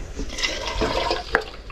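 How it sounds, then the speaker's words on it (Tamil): Water poured from a vessel into a pot of Mudavattukal kilangu (tuber) soup, giving a steady splashing, gurgling pour for under two seconds with a brief sharper splash near the end. "இப்ப வந்து சூப்புக்கு தேவையான அளவு தண்ணி ஊத்திட்டேன்"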